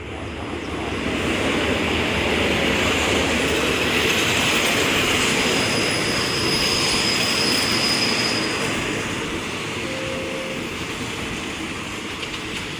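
Express train 112 hauled by a Hitachi locomotive at Chum Saeng station, a loud continuous rumble of wheels and carriages with squealing tones rising, then easing as it passes, no voices.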